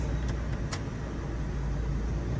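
Steady blowing of air from the A/C vents of a Toyota Tacoma, a constant broadband hiss and rush with an engine hum underneath and a couple of brief clicks near the start.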